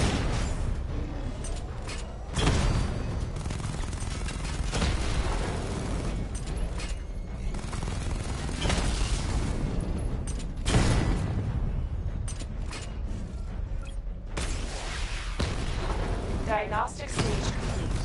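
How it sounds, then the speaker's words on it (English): Missile barrage firing in a video game: a rapid run of heavy booming blasts and mechanical launches, loud and dense, with a synthetic voice announcing over the explosions. "Missile barrage level 1 ready."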